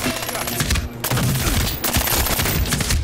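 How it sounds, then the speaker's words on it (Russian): Automatic rifle fire in the Medal of Honor Warfighter shooter game: rapid loud bursts of shots with brief pauses between them, dense and close. "Два удачных выстрела."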